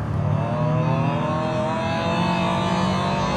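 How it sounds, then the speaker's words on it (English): A BMW M5 V8 in Forza Horizon 5, heard from the interior view, drones loudly and steadily with a dense, buzzy engine note and piped-in cabin sound, holding near-constant revs throughout. "The car's amplifying fake noise into the cabin just like the real car."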